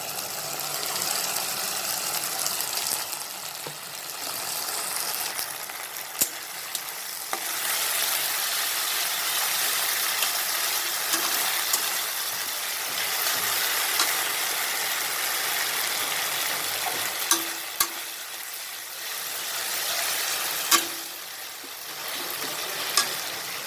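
Onions frying in a pan with ginger garlic paste for a spicy pointed gourd masala: a steady, soft sizzle that runs the whole time, with occasional small clicks of stirring and no voices.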